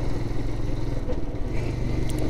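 A Royal Enfield Himalayan motorcycle climbs a winding hill road near Doodhpathri in Kashmir, its engine a steady, close, low thrum with a mild rise in revs and no talking.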